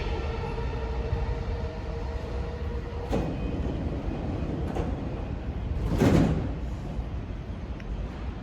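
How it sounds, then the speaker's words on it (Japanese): Sliding doors on a JR Keiyo Line limited express train close at a station platform amid a constant hum of station and train noise, with a brief soft thump and hiss marking the door movement. "3番線ドアが閉まります。"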